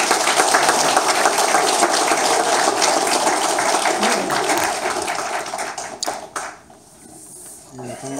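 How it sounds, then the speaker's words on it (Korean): An audience at a Korean religious sermon gathering claps to welcome a speaker, a dense crackling burst of applause that carries for several seconds before quickly dying away. "네, 박수로 환영하겠습니다."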